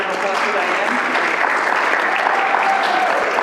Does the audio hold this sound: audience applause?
yes